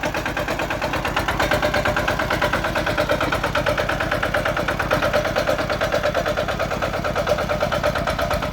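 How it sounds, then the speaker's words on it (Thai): A Kubota KRT 140 Plus walking tractor's diesel engine runs steadily at close range, a loud, even, rapid chugging throb that holds without pause. "โอ้ เครื่องยังนิ่มอยู่เลยนะ"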